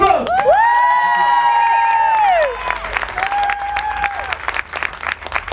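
A crowd applauds and cheers loudly for a band, with whoops and a long high whistle over steady clapping that thins out toward the end.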